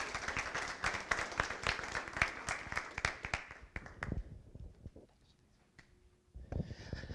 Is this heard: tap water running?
no